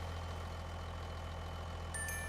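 A truck engine idles in Farming Simulator 25 with a steady low rumble, faint and constant, and a brief higher tone appears near the end.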